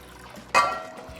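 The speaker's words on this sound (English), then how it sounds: "So pouring out this nice, lovely cold water." Cold water is poured into a stock pot for chicken stock, starting suddenly as a close, bright splash and then settling into a steady running trickle.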